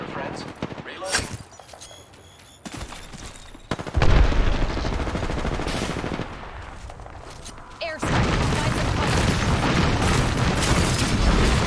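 Gunfire in a battle royale video game, with loud bursts of rapid shots and booms that come and go over game sounds and a character's voice lines.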